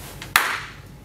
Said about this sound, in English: When I clap my hands, one movement only.